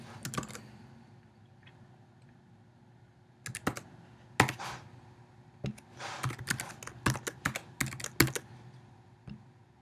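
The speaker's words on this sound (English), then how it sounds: "Now you're going to type in your username and password you received in the email" Someone types a username and password on a computer keyboard, with short bursts of crisp key clicks separated by pauses, sparse at first and then denser, close and clear without talk.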